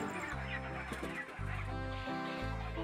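Chickens clucking and squawking on a village farm as they are caught, a busy flock heard close over a steady loud electric fan hum.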